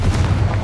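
Brief, loud, low booming blast of the Confringo fire spell in Hogwarts Legacy, a deep rumbling explosion that fills the whole short moment with no speech over it.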